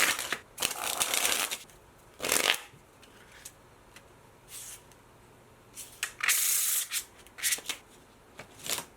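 A deck of playing cards being shuffled, repeated bursts of crisp riffling and rubbing in irregular clusters, close and fairly loud with no talking.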